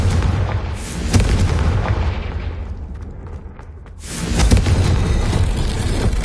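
Confringo spell explosions in the video game Hogwarts Legacy, a loud run of deep booms and blasts with sharp bursts, briefly dropping quieter before a strong blast returns near the end.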